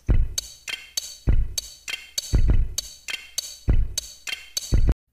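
A drum kit groove built from pitched Lego sounds, with hi-hat, compression and reverb, plays as an even run of sharp percussive hits with bright ringing tails, loud and close, ending abruptly.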